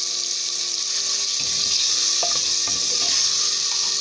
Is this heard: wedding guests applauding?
no